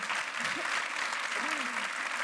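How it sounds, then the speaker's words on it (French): Comedy show audience in Paris applauding steadily, a dense unbroken patter of clapping held at even loudness from start to finish, with no voice over it. "Je sais que c'est même pas la blague que vous applaudissez"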